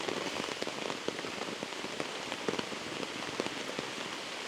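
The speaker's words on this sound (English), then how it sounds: "I've been hoping to be able to capture some rainy conditions for a while because I also really love the sound of it" Outdoors, steady rain falls on surfaces with scattered louder drops tapping close by, a constant soft hiss that stays moderately quiet throughout, with no voices.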